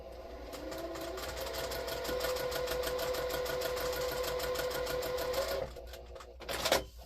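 A sewing machine runs continuously, stitching fabric diagonally corner to corner for an X table runner block, with a fast even mechanical whir and rapid needle ticking, close and steady, then it stops and gives a brief rattle.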